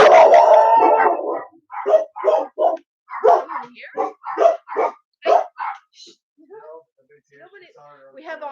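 Guard dogs bark and yip in a rapid run of short, loud, close barks after a moment of someone talking, then trail off into softer whimpers.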